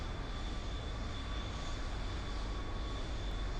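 Throttled rocket engine in Kerbal Space Program, a steady broadband roar with a constant whine above it, holding at an even level throughout without talk.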